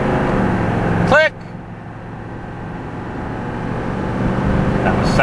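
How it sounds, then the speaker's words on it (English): A pickup truck with an automatic transmission shifts up through its gears while driving, a steady engine drone with a sudden drop in revs around one second, then a gradual rise. "That was second, third gear. Fourth gear. And then lock up."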